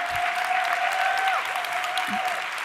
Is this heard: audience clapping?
yes